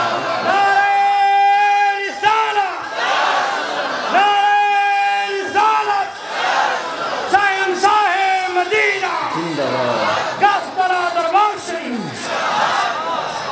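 A crowd at an Islamic devotional gathering with naat singing shouts Allahu Akbar back to a takbir call, loud full-throated chants rising in several long, drawn-out group waves one after another.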